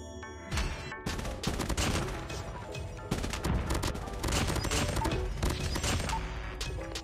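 Assault rifle fire in the mobile shooter Call of Duty Mobile, heard as dense, continuous rattling bursts of automatic shots with sharp impacts layered over loud game noise for the whole stretch.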